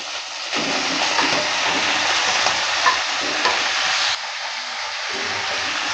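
Mixed vegetables hit hot oil in a pan with a sudden loud sizzle that holds steady for several seconds while a utensil stirs them with soft scrapes, then the hiss drops abruptly and resumes more quietly.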